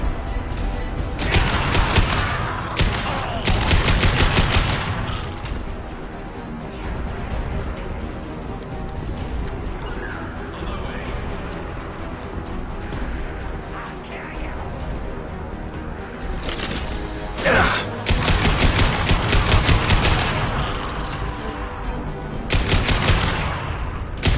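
Gunfire from the Mass Effect 2 video game comes in repeated rapid bursts of shots and impacts. The bursts are separated by quieter stretches of lingering combat noise.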